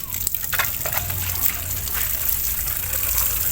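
Water pours steadily onto soil around grapevines with a splashing, trickling wash, close by and continuous for a few seconds.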